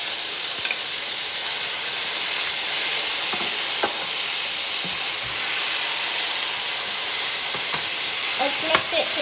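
Steamed mutton being stirred into a biryani pot, with a steady loud sizzle and hiss throughout and occasional scraping clicks of the spoon against the pot.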